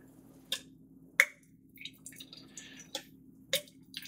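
Rosé wine is poured into glasses, heard as a handful of sharp, separate clinks and small splashing drips close by over a faint steady hum, with no talking.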